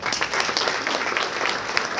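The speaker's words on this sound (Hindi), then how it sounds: "जोरदार तालियों के साथ" Loud, dense audience applause at a Ramlila committee event, many hands clapping steadily and close, with faint voices underneath.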